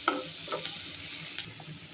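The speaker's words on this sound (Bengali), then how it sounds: "এখন হলো পেঁয়াজ কুচি করা রাখা আছে, এগুলো আমি এখন দিয়ে দেবো, একটু ভাজা নেবো।" Chopped onions sizzle in a pan while being stirred for a mustard hilsa dish, a soft frying hiss broken by several scraping stirs of a utensil, close and fairly quiet, with no speech.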